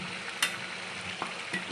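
Chicken fries in a pan after a paste of garlic and dried chilli is added, giving a faint steady sizzle with a few brief stirring scrapes, close and quiet.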